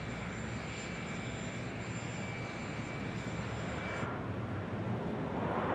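Air Force One in flight, a steady broadband roar of jet engines heard from inside the cabin, continuous and moderately loud, with a faint high whine that fades out partway through.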